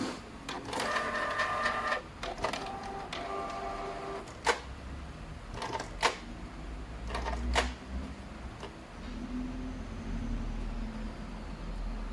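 Canon inkjet printer, a PIXMA iP2770 or MP-series model, running a print head test: repeated bursts of mechanical whirring and clicking as the carriage shuttles, with sharp clunks between passes over a steady low hum.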